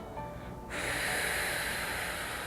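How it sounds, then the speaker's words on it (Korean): A person doing a breathing exercise, a short soft breath followed by a sustained, loud hissing exhale through the mouth that fills the rest of the moment. "내쉬고 두 번 더 마시고 내쉬고 한번더"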